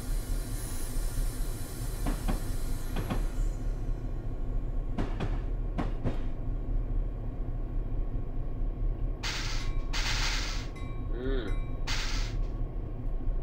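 Train in Train Simulator 2018 on the Peninsula Corridor slowing down, a steady low rumble throughout with a few sharp metallic clanks early on and bursts of brake hiss near the end.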